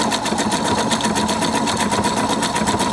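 A domestic sewing machine stitching an elastic zigzag seam, a fast steady mechanical whirring with a rapid regular needle pulse, close and continuous with no talk.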